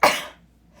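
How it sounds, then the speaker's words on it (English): A single sharp sneeze bursts out close and loud, then fades quickly into near silence during an indoor oil painting session. "Oh, I have to sneeze."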